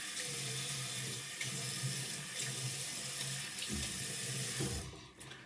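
A bathroom tap runs steadily into a sink as water is splashed on a face before a straight razor shave, a close, continuous gushing that cuts off near the end.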